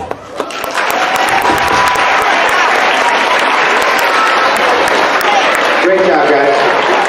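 A school audience breaks into sustained applause for award recipients, a dense, loud roar of many hands that swells quickly and holds steady, with cheers and voices mixed in.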